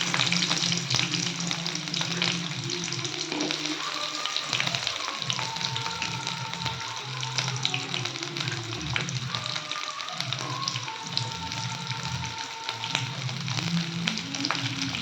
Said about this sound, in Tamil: எண்ணெய் காய்ஞ்சதுக்கப்புறம் நம்ம கட் பண்ணி வச்சுருக்கிற ஒரு வெங்காயத்தை சேர்த்துக்கலாம்